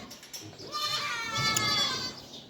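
Young goat kid, one suckling milk on a farm, bleating in a wavering, drawn-out call that rises mid-clip and carries over a faint background of other noise.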